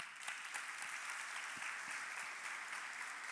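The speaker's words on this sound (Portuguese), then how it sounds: "Dê um aplauso a Jesus" Church congregation applauding together, steady dense clapping filling the space at moderate loudness, with a few faint scattered voices underneath.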